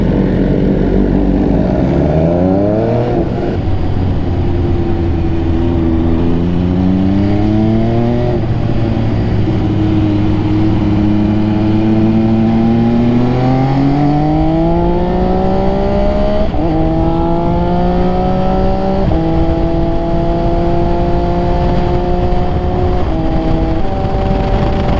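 Several motorcycles, including an MV Agusta F3, ride together in a group. Loud engines rise and fall as they accelerate and shift through gears, with steady road noise underneath and no talking.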